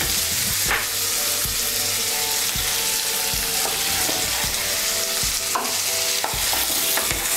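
Spice paste of ginger and cumin with a splash of water sizzles alongside pumpkin in a pan, a spoon stirring and scraping with repeated knocks and clatters against the metal over a continuous frying hiss.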